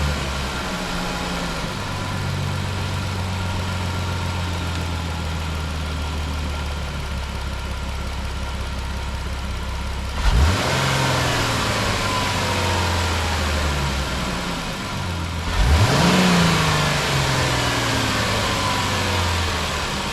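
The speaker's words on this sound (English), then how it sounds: "And then I tried to do 2 small taps, but it goes up pretty quick, but it takes a while for it to come back down." Ram 1500 fourth-generation pickup idles with a low steady rumble, then two quick throttle taps each send the revs up sharply before they sink slowly back to idle, recorded close with no talking.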